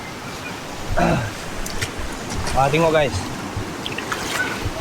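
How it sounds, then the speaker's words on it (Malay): A river at Ulu Chepor, Perak, gives a steady, broad rushing and trickling wash throughout, with voices talking briefly over it. "Jadi keadaan sungai dia macam ni lah guys."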